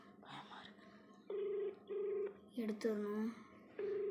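A ringback tone during an outgoing phone call plays as short, steady, repeated tone pulses, with a voice talking in between and over the ringing.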